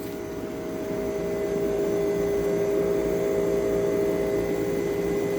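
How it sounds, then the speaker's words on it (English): A window air conditioner with a reciprocating compressor runs steadily, giving a loud, constant hum with a strong tonal drone and a fan rush that hold evenly throughout, with no voices. "the reciprocating compressor may be loud, but I really, really like how it sounds"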